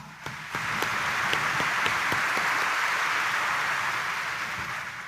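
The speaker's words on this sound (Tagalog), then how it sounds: "pumalakpak ng malakas." Church congregation at a Sunday homily claps loudly, a dense, sustained burst of applause building quickly and holding steady before tapering slightly.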